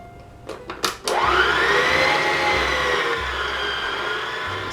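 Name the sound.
electric mixer kneading Nutella bread dough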